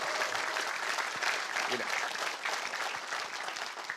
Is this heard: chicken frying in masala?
no